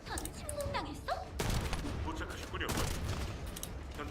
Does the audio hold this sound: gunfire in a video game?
yes